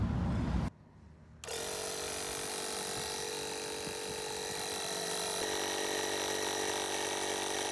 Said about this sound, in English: fortunately I have my trusty little air compressor that I bring with me everywhere